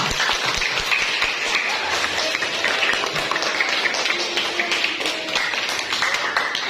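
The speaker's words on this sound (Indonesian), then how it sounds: "Tepuk tangan semuanya." Students applauding in a classroom, a dense, even spread of many hands clapping together for several seconds, with no one speaking over it.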